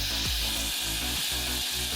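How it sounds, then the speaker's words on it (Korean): Butter sizzles and crackles in a preheated pot, a steady close frying hiss with a few soft knocks and stirring scrapes underneath, no voices. "예열된 냄비에 버터 20g을 넣고"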